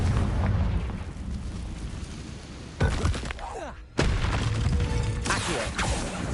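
A Confringo blasting curse explodes in the Hogwarts Legacy game, a sharp burst followed by a second loud blast amid a rumbling din of combat.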